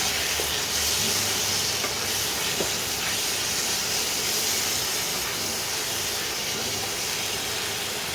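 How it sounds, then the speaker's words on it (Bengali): Cumin powder and spices sizzle in a hot pan while being stirred, a continuous steady frying hiss with faint scraping touches, close and unbroken, no talking. "হাফ চামচ দেবো জিরে গুঁড়ো, এগুলোকে একটু নাড়িয়ে দিই।"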